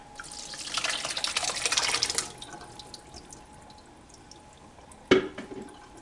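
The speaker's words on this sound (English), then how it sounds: "we're going to pour our contents into our colander" Contents are poured into a colander, a rushing splash of water for about two seconds, then quiet trickling and dripping, followed by a single sharp knock or clatter near the end.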